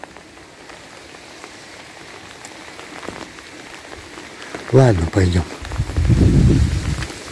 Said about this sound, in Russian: Что-то крупный дождь пошел.